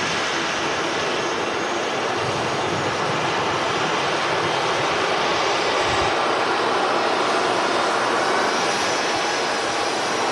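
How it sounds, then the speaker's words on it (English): Boeing 737 jet engine at Manchester Airport, a loud, steady broadband roar that holds for the full ten seconds with no break or change, close and dominant, with no voices over it. "Loads of noise from the 737."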